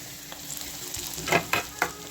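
Turmeric and ground coconut frying in hot oil for a spicy egg curry, a soft steady sizzle broken by three or four louder scraping stirs close by, with no talking.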